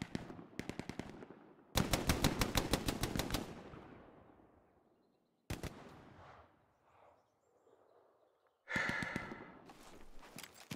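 Machine gun fire in the World War II shooter game Hell Let Loose, several rapid bursts of evenly spaced shots, close and loud, separated by quiet gaps with softer rumbles and distant noises.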